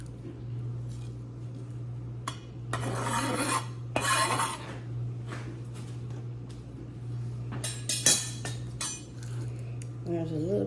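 A knife cuts away pineapple skin in short rasping strokes against a board, with a few metallic clinks in between, close up, over a steady low hum and no speech.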